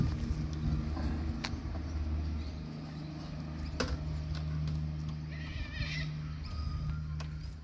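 An all-black Honda Rebel 500cc motorcycle idling nearby in Adelaide. It gives a steady, low, throbbing rumble with a few faint clicks and knocks, and no clear speech.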